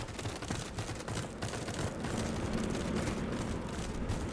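Dense, rapid gunfire from the Peacekeeper gun in the video game Starfield crackles continuously with booming low thuds, a sustained fusillade without pauses or voices.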